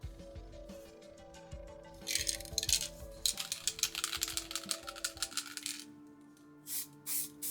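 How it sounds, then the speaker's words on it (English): A can of spray paint is shaken hard, its mixing ball rattling in quick metallic bursts that come and go in uneven runs, close and fairly loud with nobody talking. "The paint has to be shaked well. Shake it, baby."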